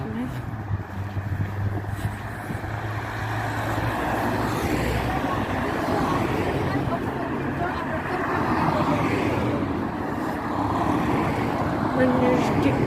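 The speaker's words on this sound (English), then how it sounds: "There's a bus coming." A bus passing along a suburban street between Firswood and Chorlton, a broad steady traffic rumble that builds and holds over several seconds, with other road noise and a person talking over it.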